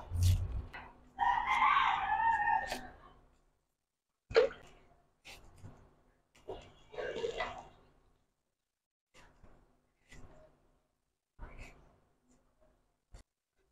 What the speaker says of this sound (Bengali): ঢাকা শহরে বসে মুরগির ডাক শোনা, সে একটা ব্যাপার